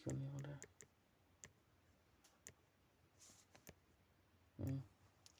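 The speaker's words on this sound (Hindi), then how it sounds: "यहाँ क्लिक क्यों नहीं हो रहा है?" Computer mouse clicking, a handful of sharp isolated clicks spaced irregularly, close and dry, with someone speaking briefly at the start and again near the end.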